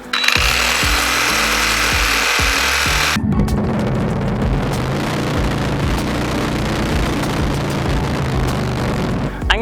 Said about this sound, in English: here's what happens when I use a Sawzall with a camera on the end that doesn't have any stabilization at all.